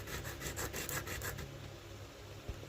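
A nitre bush seed rubbed back and forth against an abrasive surface, a quick series of close, gritty scraping strokes that stop partway through, leaving quiet handling noise and a single soft knock.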